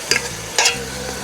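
Onions and green chillies frying in a pan for a festival meal, with a soft steady sizzle under two short bursts of stirring scrapes, close and fairly loud.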